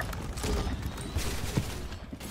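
Gunfire in the Roblox game Arsenal, a continuous stream of muffled, fairly loud automatic shots with a few sharper hits, no talking.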